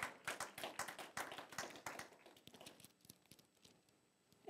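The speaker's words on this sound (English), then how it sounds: "Clap your hands." Church congregation claps hands in a steady, rhythmic beat for about two seconds, then the claps grow sparser and softer before fading.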